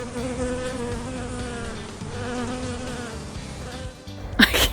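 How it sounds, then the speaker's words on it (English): Bees buzzing close by along a roadside near Mitzpe Shalom in Israel, a steady droning hum with wavering pitch from several insects, ending with a brief scrape. "All the bees are out. I could hear the buzzing."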